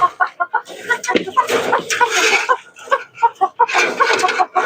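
Two-month-old Kabir chickens cluck at feeding time in short, choppy bursts close by, their calls overlapping in an irregular, busy rhythm.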